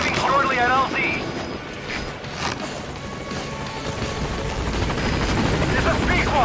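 In Metal Gear Solid 5, the Pequod helicopter arrives at a landing zone with loud, close rotor thumping and mechanical whine, while a voice talks over the radio.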